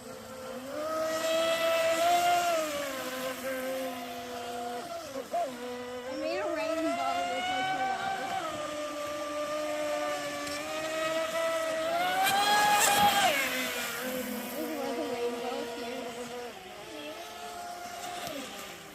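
A small high-pitched Traxxas Spartan RC speedboat motor whines steadily on a pond, rising and falling in pitch as it speeds up and slows, with occasional voices talking nearby.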